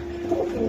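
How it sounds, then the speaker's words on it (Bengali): Pigeon at a breeder's loft coos in one short, low, close burst, heard alone without talk. "মহসিন ভাইয়ের কবুতর, মহসিন ভাই আমার না মানে আমার ফেভারিট কবুতর।"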